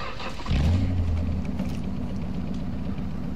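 A car in Call of Duty DMZ cranks to life with a sudden loud start, then settles into a steady low engine rumble close by, with no voices over it.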